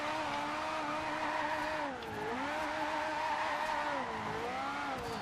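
A Ferrari F40 drifts in Forza Horizon 2, its engine holding a steady high drone that dips and swells as the revs fall and climb mid-slide, loud and continuous without voices.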